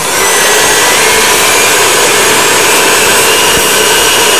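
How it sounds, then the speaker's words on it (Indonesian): Electric mixer kneading potato pizza dough runs as a steady, loud, broadband whir that continues without a break and stands alone, with no voices over it. "Sekarang kita mulai mixer."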